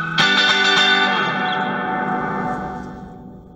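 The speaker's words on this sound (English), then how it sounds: "Second kind of reverb." A single distorted guitar chord struck loudly through a Fender Mustang Mini amplifier's second reverb setting, ringing with a long shimmering reverb tail that slowly fades over a few seconds.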